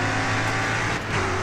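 Super Ute race cars roar past in GRID Autosport, a loud, steady engine drone with a slight dip and swell as one car closes in, no talking over it.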